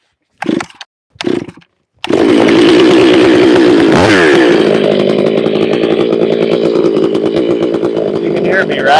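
A chainsaw cuts a notch into a pine tree out in the forest, with two short revs followed by a loud, sustained run that dips and bogs briefly partway through.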